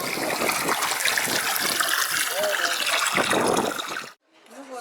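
Clear spring water gushes steadily into a jug filled by a bride at a roadside spring during a traditional Ingush wedding custom, a full, rushing flow that cuts off abruptly near the end, followed by a brief voice.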